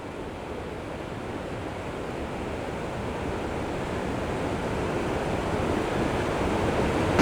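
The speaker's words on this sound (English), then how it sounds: "But then a little further down is another set of waterfalls." Steady rushing water from a waterfall at Valley Falls State Park in West Virginia, a dense, continuous broadband roar that holds even and close throughout, with no voices.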